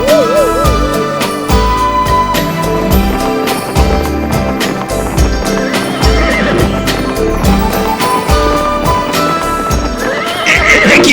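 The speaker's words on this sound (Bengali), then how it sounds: "আমার ঘোড়াটা এমন চেঁচাতে শুরু করলো কেন?" Cartoon horse neighs and whinnies repeatedly, loud and close, with clip-clop hoof steps and busy musical scoring throughout.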